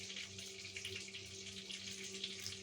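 A thin steady stream of water runs for a few seconds while being poured into about a tablespoon of flour to start a garlic butter chicken gravy, close and continuous with no talk.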